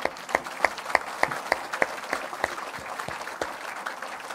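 A church congregation at a healing service in Evry applauds the Lord, steady overlapping clapping with regular louder claps, moderately distant and filling the room without speech.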